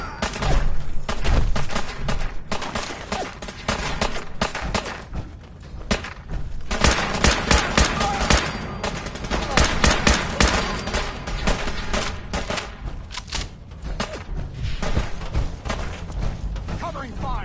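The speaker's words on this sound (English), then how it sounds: "Covering fire. Go. Suppressing fire!" Sustained gunfight in Fallout 4, with rapid automatic bursts and repeated sharp shots crackling close and loud throughout, mixed with thuds, while voices shout over the fire.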